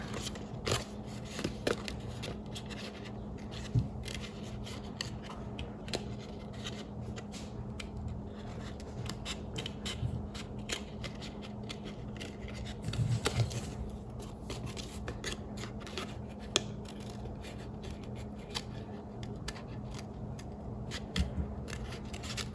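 Small scissors snip paper letters for a 12x12 Halloween scrapbook layout, a steady run of quick, close crisp cuts with light paper rustling between them and no talking.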